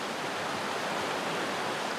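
Small mountain stream flowing on a Cantal hiking trail, a steady, close rushing hiss of water with no pauses and no voices.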